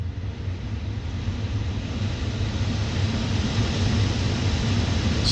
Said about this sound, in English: What happens if we turn the blower fan up?